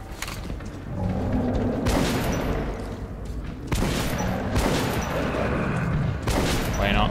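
Several loud gunshots in the video game Metro 2033 Redux, fired in uneven bursts over a constant low rumble, with one heavy boom partway through.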